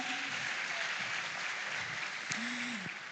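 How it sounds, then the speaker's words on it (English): An audience claps in a steady, faint, distant wash for Holy Cross Seminary at a school farm awards grand final, with a voice talking over it. "Another round of applause for them."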